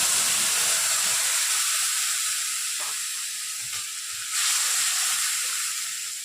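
Onion paste frying in hot oil with garam masala for a Bengali doi rui fish dish, a loud, steady, close sizzle and hiss running throughout with no talking.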